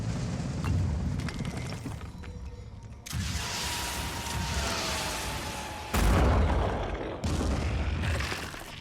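Grenade blasts in the video game Phoenix Point, heavy booming explosions with dense rumbling debris that cut in abruptly several times over a continuous loud battle ambience, no talk.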